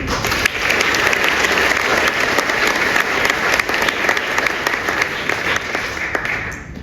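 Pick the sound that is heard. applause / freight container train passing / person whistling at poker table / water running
applause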